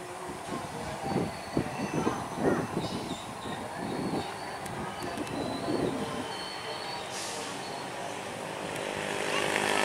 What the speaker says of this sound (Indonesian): Jarang-jarang KA lokal Merak ditarik lokomotif CC206.